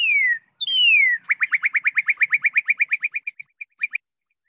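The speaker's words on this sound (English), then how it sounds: "this bird has several different kinds of calls" A northern cardinal calls from nearby: two clear downslurred whistles, then a rapid, even run of about twenty bright chirps that slows and thins into a few last notes before silence.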